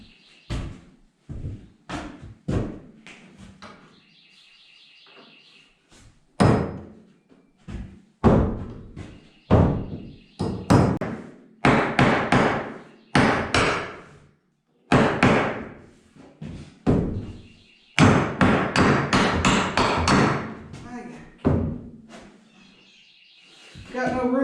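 A borrowed framing hammer driving nails while building a second-floor loft in a 12x20 shed shop: irregular sharp, ringing strikes in short bursts, some strong and close, separated by brief pauses.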